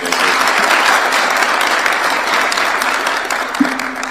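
Sustained applause from a crowd welcoming a Kenyan football team at State House in Nairobi, a dense steady wash of clapping that holds at an even level throughout.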